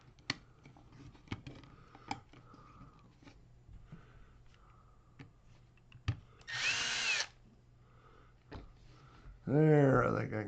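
A power drill removes the front screws from an Associated T6.4 RC truck, giving two short, close whirring bursts near the end after light handling clicks and taps; someone speaks briefly in between.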